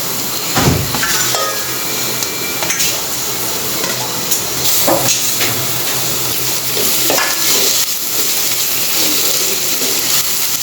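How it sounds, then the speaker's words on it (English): Ginger garlic paste sautéing in a pan with onion and tomato, a steady sizzle with a few sharp stirring scrapes and clinks of a spoon against the pan. "Saute it for a minute."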